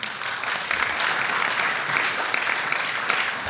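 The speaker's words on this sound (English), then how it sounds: "I like that applause" Crowd applause at a legislative budget event on COVID-19 funding, dense and steady clapping from a sizable audience, fairly loud and continuous for a few seconds.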